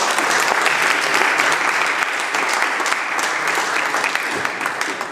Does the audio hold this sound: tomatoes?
no